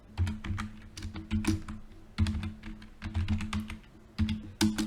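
A username is typed on a computer keyboard in quick, close, fairly loud clusters of keystrokes with brief pauses between groups, and no voice over them.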